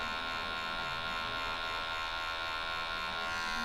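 Electric hair clippers fitted with a zero guard cut hair during a self-haircut, giving a steady, even electric buzz with a faint hum that holds unchanged for a few seconds and has no voices over it.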